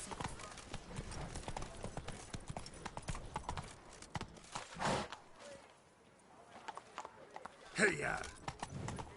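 Roach the horse trots with steady clip-clopping hooves in a video game, rhythmic and continuous at moderate distance, with someone talking over it and a short shouted call near the end.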